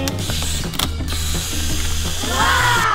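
A toy kitchen oven timer is wound with a steady mechanical ratcheting clicks, close and fairly loud, running without pause and growing a little brighter near the end.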